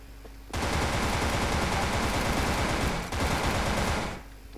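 Sustained automatic gunfire in the online shooter Wolfteam, a dense continuous burst lasting several seconds with a brief dip midway, loud and close with no talking.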